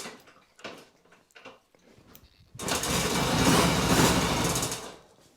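A Yamaha XS 650 motorcycle engine, primed with brake cleaner in each cylinder, catches and runs roughly for about two seconds after a few clicks and cranking attempts, then dies abruptly.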